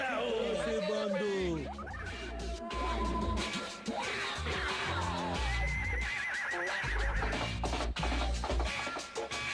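In a Hindi-dubbed Gon the Stone Age Boy cartoon, a horse neighs repeatedly and gallops off with clip-clop hoofbeats, mixed with busy cartoon sound effects and voices talking.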